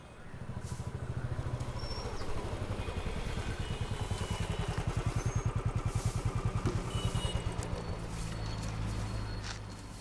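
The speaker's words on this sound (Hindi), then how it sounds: "उस बाइक का इंजन सही कर।" A motorcycle engine idles close by with a steady, rapid putter, holding its rhythmic thump for the whole stretch.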